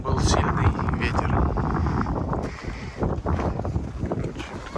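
Strong wind outdoors near a forest in Oslo buffets the microphone with a loud, continuous roaring rush that swells and dips unevenly for several seconds.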